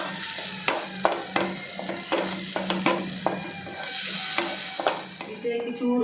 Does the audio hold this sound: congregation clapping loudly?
no